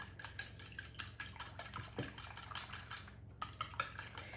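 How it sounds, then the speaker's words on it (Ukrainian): A whisk or fork beats two eggs with half a teaspoon of salt, making quick, regular clinking strokes against the bowl. The strokes are close and steady, with a short pause near the end. "І вінчиком чи виделкою просто перемішуємо."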